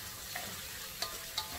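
Spices sautéing in a pan for a sambal shellfish dish, a soft steady sizzle with a few faint clicks of stirring, heard alone and fairly quiet.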